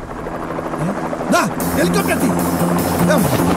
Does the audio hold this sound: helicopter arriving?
yes